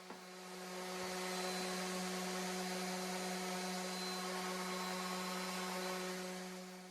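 Power sander grinding over a live edge epoxy end table, a continuous steady whine with strong tonal hum and a fine abrasive hiss, fairly quiet and constant throughout, no voices.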